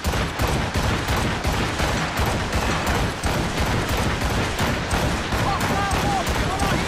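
Gunfire from a naval battle in Assassin's Creed Rogue, a dense, continuous volley of loud, close cracks and booms filling the whole stretch, with shouting voices mixed in.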